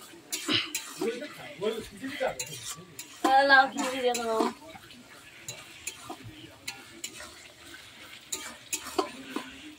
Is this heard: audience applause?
no